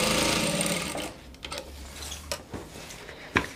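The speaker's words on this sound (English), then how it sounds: "you are going to stitch all the way down to the hem of the dress" A sewing machine stitches fabric down to a dress hem, a steady close whirring run that slows and stops after about a second, followed by a few scattered clicks and knocks.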